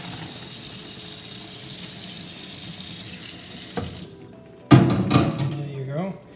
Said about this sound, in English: this pasta is ready, so I'm gonna strain that here.